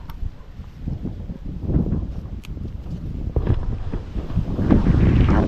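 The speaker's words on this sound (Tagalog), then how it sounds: "malakas ang hangin dito mga kadede," Strong wind buffets the microphone with a continuous low roar that swells and gusts throughout, no voices present.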